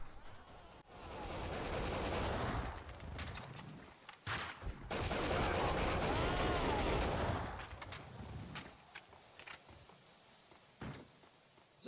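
Gunfire in the Max Payne video game (2001), with dense bursts and sustained loud volleys followed by scattered single shots and impacts, with faint game voices in places.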